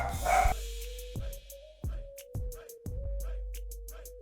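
Several dogs barking at home, sharp repeated barks roughly every half second over a steady hum, fairly close and loud.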